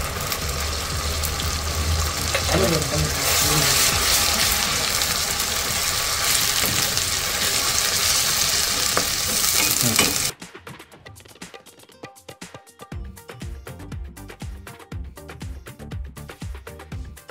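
Green spice paste with browned onions sizzling loudly in a pan for dhaba-style whole masoor curry, a dense steady frying hiss that cuts off abruptly partway through, followed by quieter scattered clatter.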